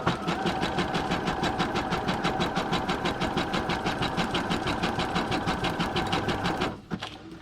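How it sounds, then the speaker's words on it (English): A sewing machine zigzag stitching through paper, a fast, even mechanical chatter of many rapid needle strokes, loud and close, running steadily before stopping abruptly near the end. "And then over here, I'm going to put just a little bit of zigzagging."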